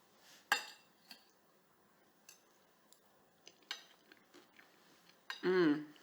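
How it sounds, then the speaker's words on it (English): Cutlery clinks and scrapes against a plate while someone eats a gluten-free, low-FODMAP sloppy joe: a few light, sparse taps and scrapes in a quiet room, with a brief voice near the end. "I would probably eat it with a fork and a knife. So let's get that."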